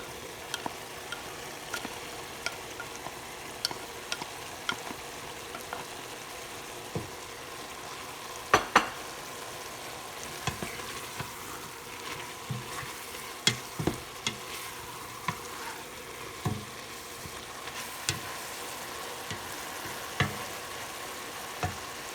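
Meat and carrots fry in a pot with a steady low sizzle, broken by repeated scraping and clinking strokes of a spoon as the mixture is stirred, heard close with no talking.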